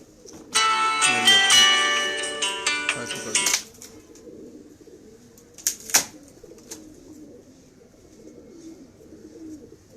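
Pigeon sounds from a bird handler's loft: a clear, sustained harmonic call for about three seconds, then a brief sharp burst, over faint background noise.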